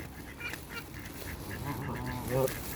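Ducks and geese at a park being fed dry fruit, with several short honks and quacks over a soft outdoor background, the loudest call near the end.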